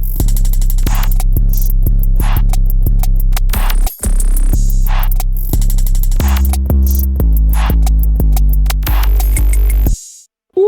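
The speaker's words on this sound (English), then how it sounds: "So this is how all the drums sounds together." A Detroit-style beat programmed in FL Studio plays loud with all the drums together: booming low kicks, sharp snares and rapid hi-hats in a steady pattern, ending in an abrupt cut.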